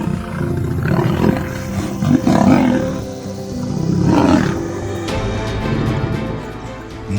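Male lions roar and snarl while fighting in the wild, loud, close, rough growling roars swelling in several heavy surges with brief pauses, harsh and continuous across the scuffle.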